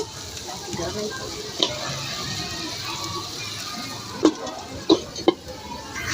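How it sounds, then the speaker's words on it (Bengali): Spice masala fries and bubbles in a pan for an eggplant and koi fish dish, a steady low sizzle running throughout with a few sharp clinks and knocks near the end. "এখন মশলাটা ফুটে ওঠা পর্যন্ত অপেক্ষা করব"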